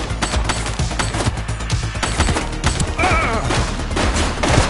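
Rapid gunfire in the police video game The Precinct, a dense burst of sharp shots cracking close and loud in quick succession, with a brief shout cutting through midway.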